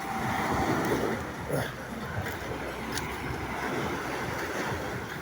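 Sea waves washing in at high tide along an open shore, a steady broadband wash of surf with wind buffeting the microphone, one louder swell early on, no talk.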